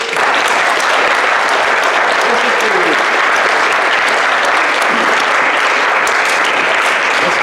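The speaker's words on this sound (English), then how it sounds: "You all deserve an enormous round of applause" Sustained applause from an audience at a young writers' award ceremony, steady and dense throughout with no break.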